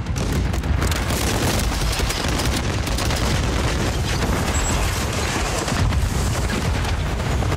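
Sustained, loud gunfire in Call of Duty fills the whole stretch as a dense barrage of rapid shots and booms with no letup, and no voices can be heard over it.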